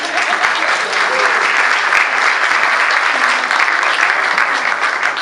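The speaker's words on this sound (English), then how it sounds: "let's give a special round of applause to California" Loud, dense applause fills a room at a Congressional hearing on Alabama's HB 56 immigration law, a continuous roar of many clapping hands held at even strength throughout.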